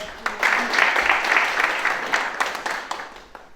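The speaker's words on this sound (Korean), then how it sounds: "가장 큰 박수를 서로 주셨으면 좋겠습니다" An audience at a South Korean post-election review forum in South Jeolla breaks into sustained, dense applause that fills the room for a few seconds, with a voice speaking over it.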